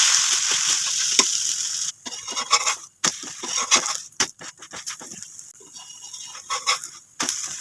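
Adai batter of wheat flour and moong dal sizzling in oil or ghee on a hot pan, a steady close crackle broken by sharp scraping clatters of a spatula and brief pauses.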